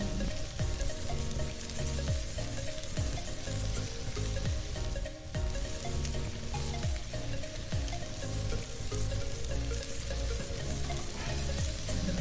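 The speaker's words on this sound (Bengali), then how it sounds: "কপির মধ্যে সামান্য একটু হলুদ দিয়ে ভাজবো" Cauliflower pieces fry with turmeric in hot oil, sizzling densely and continuously for the whole stretch, with steady crackling and the occasional scrape of stirring close by.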